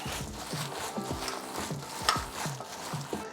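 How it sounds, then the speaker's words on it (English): Squelchy mixing of raw lumpia filling bound with a cracked egg, worked by gloved hands in a bowl, a steady series of wet, sticky squishes close by without talk. "Begin mixing."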